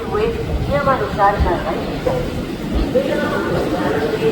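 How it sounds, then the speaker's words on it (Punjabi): Overlapping voices and crowd chatter fill a busy platform at a large railway station over a low, steady rumble of background noise. "ਕਾਫੀ ਵੱਡਾ ਰੇਲਵੇ ਸਟੇਸ਼ਨ ਹੈ"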